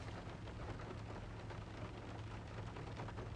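Steady rain falls outside on a wet day in Naperville, a dense, even hiss of drops with a low rumble underneath, continuous and fairly loud throughout with no voices.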